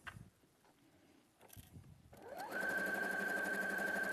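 A sewing machine stitches fabric down a seam, starting after a few quiet handling sounds and then running in a steady, even whir at close range.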